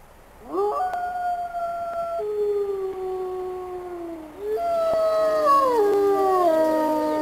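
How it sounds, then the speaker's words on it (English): Several wolves howl together in long, rising and gliding tones that overlap and waver, loud and sustained with a brief dip before the chorus swells again. "howling wolves can be heard 16 kilometers away"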